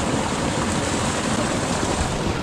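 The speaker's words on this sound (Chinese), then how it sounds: "这里有两个龙嘴，哗哗的淌着泉水。" Spring water gushes from two dragon-head spouts at a mountain spring on a snowy day, making a constant, close rushing splash with no pauses.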